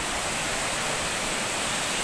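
Steady roaring rush of falling water, broadband and constant throughout, the Petrified Falls in New Zealand heard close by with no pauses.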